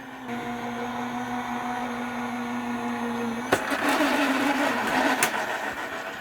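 A die cutting machine runs in a steady motorized hum with a tonal whine, then shifts to a rougher, louder grinding after a sharp clunk partway through.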